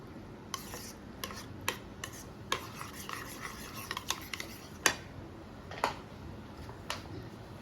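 Garlic sauce being stirred in a bowl, a spoon scraping and tapping against the sides in uneven strokes with a few sharper clinks, close and fairly quiet with no talking.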